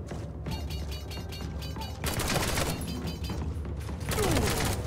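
Gunfire from the Samurai Jack: Battle Through Time video game, dense crackling shots that swell louder partway through over a busy backdrop of game music and effects, with no talking.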